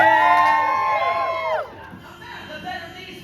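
A crowd cheers and shouts for a barbershop quartet at Magic Kingdom. The cheering rises just after the quartet's close-harmony singing breaks off, then carries on as a looser, quieter din of voices.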